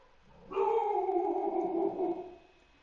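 A dog inside a house lets out one long, drawn-out howl or whine lasting about two seconds, fairly close in a quiet room.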